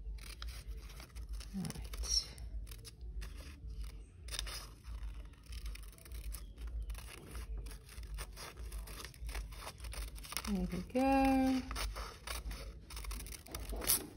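A few snips and scraping sounds of scissors on paper, close by, with brief speech near the end.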